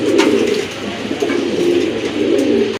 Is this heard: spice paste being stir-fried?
no